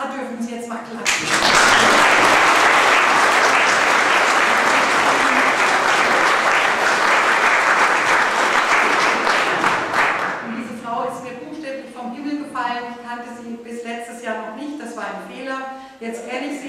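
Audience in a Gothic village church applauding a concert pianist, a sudden loud wave of clapping lasting about nine seconds before fading, after which a voice talks on alone.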